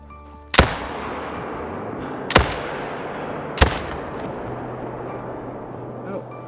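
A Hansen 30-06 rifle fires three sharp, loud shots in the hunting game Call of the Wild, each crack trailing off in a long echoing decay.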